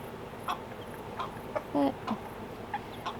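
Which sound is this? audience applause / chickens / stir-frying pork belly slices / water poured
chickens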